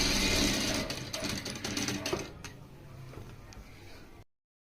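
A Daisen sewing machine runs in a fast, close mechanical whir of rapid stitching, slowing and tapering off before cutting to silence.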